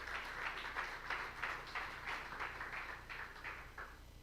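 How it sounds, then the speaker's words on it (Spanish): A church congregation claps together for the Lord in steady, rhythmic bursts that sound soft and somewhat distant, with no talking over them. "dar un aplauso al Señor, dáselo bien fuerte,"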